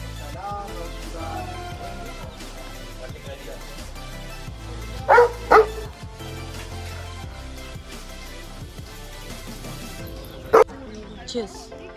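A dog in Dandeli, Karnataka lets out a few sharp barks, two close together then one more later, over people talking in the background.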